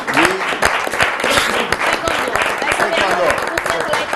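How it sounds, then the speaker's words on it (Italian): An audience at an Italian martial arts event gives sustained applause for a taekwondo champion, with dense, even clapping throughout and crowd noise, loud and continuous. "quindi un applauso anche a lei"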